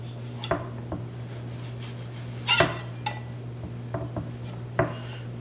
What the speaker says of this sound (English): I'm just going to use the knife to peel the skin off it